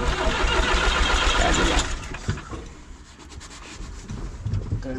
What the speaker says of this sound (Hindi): इसी के साथ कुछ इंजन में कुछ आई है दिक्कत?